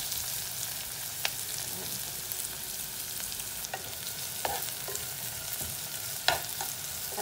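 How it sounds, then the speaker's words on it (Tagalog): Garlic and onion sauté in a pan for an Ilocano pakbet, giving a faint, steady sizzle with a few soft clinks and scrapes of stirring scattered through it. "igisa lang natin hanggang sa mag-light brown yung ating bawang at ang ating sibuyas"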